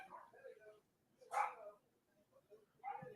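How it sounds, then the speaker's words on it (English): A dog barks in short bursts from some distance, faint and separated by quiet gaps, with a soft voice in the background. "Why is the dog still barking?"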